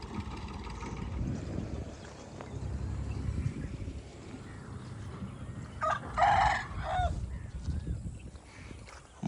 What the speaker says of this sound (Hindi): हमारे मुर्गे की तरह ये मुर्गा भी अभी बांगे देना सीख रहा है।